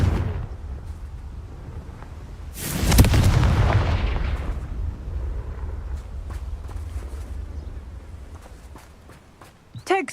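A Confringo spell in Hogwarts Legacy sets off a loud, close explosion that roars and slowly rumbles away over several seconds amid footsteps and other game sounds.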